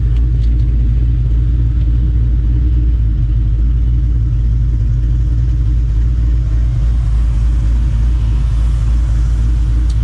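Cammed Boral Atak Terminator Cobra engine idles with a loud, deep, steady rumble, lumpy pulsing throughout with only faint hints of backfire pops, heard close up without speech.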